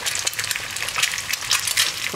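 A Brahma chicken egg with a double yolk frying in a pan gives a steady, close crackling sizzle that runs unbroken throughout, with no voices.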